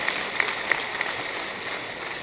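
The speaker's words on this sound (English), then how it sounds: "Can we give him a round of applause" Applause from a conference audience at an accountants' opening ceremony, steady moderate clapping with a few sharper claps standing out early, heard from within the hall.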